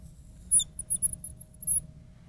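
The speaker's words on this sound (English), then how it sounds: "as I make my cell wall here a little thicker with my squeaky marker" Squeaky marker drawing on a surface, several high, thin squeaks in quick irregular bursts over a faint low background hum.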